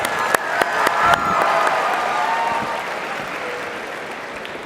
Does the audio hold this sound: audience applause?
yes